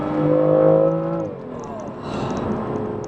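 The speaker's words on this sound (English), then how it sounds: "I'm not sure if that's the sports exhaust or not on this car" A BMW M2's engine holds a high, tonal exhaust note, then the pitch drops as it shifts and pulls away into a lower, rougher drone.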